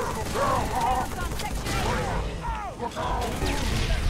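Gunfire in Halo 3, a dense, continuous clatter of weapon fire and crashing impacts filling the whole stretch, loud and close, with voices shouting over it.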